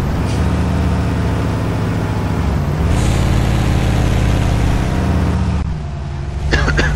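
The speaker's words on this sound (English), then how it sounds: "Now let's try the Jake brake again from the exterior view." In Euro Truck Simulator 2, a heavy truck's Jake engine brake roars as a loud, staccato diesel rumble heard from outside the cab, easing briefly, resuming, then dropping off near the end.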